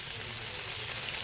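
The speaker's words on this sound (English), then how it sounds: "Now it's sizzling." Steak sizzles as a sound effect, a steady hissing crackle holding evenly for a brief moment with no talk over it.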